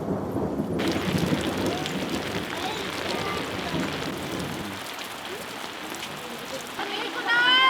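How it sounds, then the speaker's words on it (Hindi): Heavy rain pours steadily with rolling thunder, loud at first and easing later, while people talk over the downpour. "इतनी बारिश हो रही है।"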